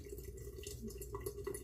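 Water splashed onto the face by hand to rinse off leftover shaving soap after a single-edge razor shave, a steady close wet dripping and splashing with no talk.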